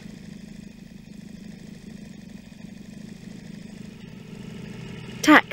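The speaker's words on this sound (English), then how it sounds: "Motorbike." A motorbike engine idles with a low, even putter that rises slightly toward the end, cut off by a brief loud burst of sound.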